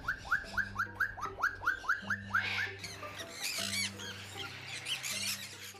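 Eclectus parrots (Eclectus roratus), a green male and a red female kept as pets, give a fast run of about ten sharp chirping calls. Louder, harsher squawks follow, over a steady low hum.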